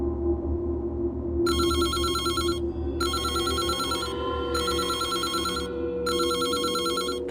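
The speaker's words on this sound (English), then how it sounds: "The phone again." An in-game telephone rings in Reverse: 1999, three evenly spaced bright electronic ring bursts over a low ambient music bed, with no talking.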